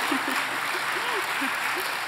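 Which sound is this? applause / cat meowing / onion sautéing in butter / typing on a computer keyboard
applause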